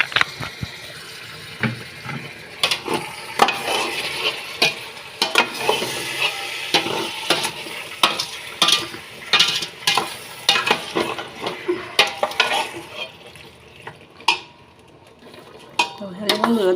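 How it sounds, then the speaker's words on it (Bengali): A spoon stirs tempering spices into an olive pickle cooking in a pan, giving repeated scraping clacks against the metal over a soft sizzle, close and fairly loud with no talking. "এবার আমি দিয়ে দিচ্ছি সামান্য ছেড়কা।"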